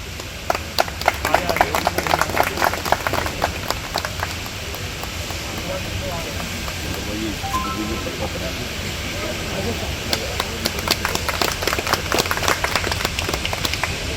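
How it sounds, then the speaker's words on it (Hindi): Crowd applause welcoming a BJP municipal councillor at an outdoor park inauguration, a steady broadband clatter of clapping running throughout with some voices mixed in. "एक बार जोरदार ताली बजा करके हम इनका स्वागत करते हैं"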